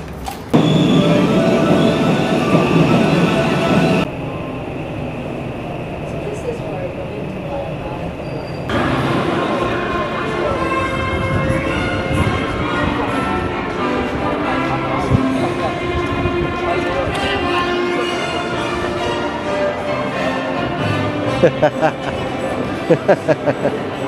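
A train ride in Osaka, Japan, heard from inside the carriage: steady rumbling and clattering on the rails with shifts in tone as the train runs, a horn-like tone, and people talking throughout.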